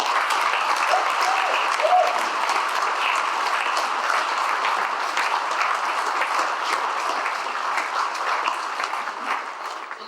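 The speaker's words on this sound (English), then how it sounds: "Thanks for that clap." Sustained applause from a large audience at a Liberal Party campaign launch in South Australia, steady dense clapping for about ten seconds that tapers slightly toward the end, with no voices over it.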